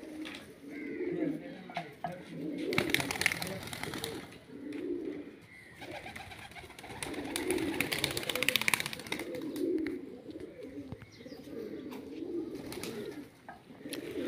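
Pigeons coo softly and repeatedly inside a cage on a pigeon farm, the rounded calls rising and falling at close range over a background of faint rustling and a murmuring voice.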